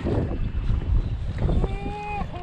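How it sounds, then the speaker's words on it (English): Steady wind buffets the microphone outdoors on open water, a low rumbling roar with a faint voice underneath. "It's real windy out here"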